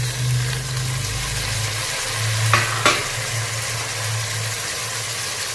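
Ginger garlic paste for biryani fries in a pan with a loud, steady sizzle, broken by a couple of sharp stirring scrapes partway through.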